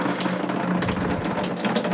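Golden ale wort pours from a Brewzilla Gen4 brewing system into a fermenter. The liquid makes a continuous, close, splashy gush with a steady hiss and no talk.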